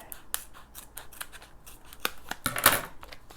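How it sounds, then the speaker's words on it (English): A pair of scissors cuts open chocolate packaging in a series of short, crisp snips close by, ending with a louder burst of cutting. "let me grab a pair of scissors"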